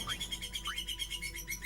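A bird chirps in Final Fantasy 10, with soft, repeated tweets layered over a steady low game hum and music bed. No voices are present.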